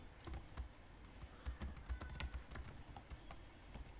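Python code being typed on a computer keyboard, quick irregular key clicks in bursts and pauses, soft and close, with no voice.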